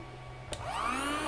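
A vacuum sealer starts up after a click and pumps air with a steady motor whine that rises in pitch, close and loud, with no talk.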